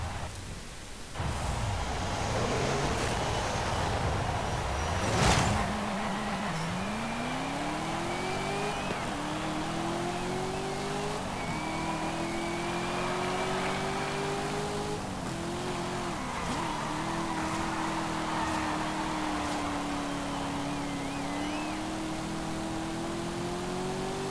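A supercharged 2022 Cadillac CT5-V Blackwing engine in Forza Horizon 5 idles, gives a sharp burst, then climbs through repeated revving pulls. The tone rises and settles several times, loud and continuous with no talk.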